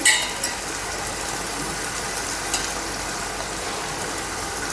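Masala of cooked-down tomato sizzles steadily in a pan as chili powder goes in for a village-style Andhra chicken biryani, a constant broadband frying hiss with a couple of faint clinks near the start.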